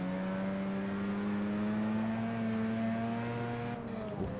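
Mazda RX7 engine in the Forza Motorsport 6 racing game, a steady droning whine with its pitch slowly rising as the car accelerates, then easing off near the end, heard without any talk.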